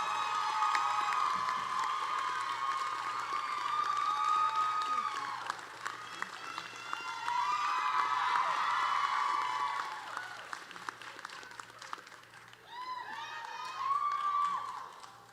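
Sustained audience applause with scattered cheers at a spring commencement ceremony on a Montgomery campus, loud and continuous, swelling and easing in waves for about fifteen seconds.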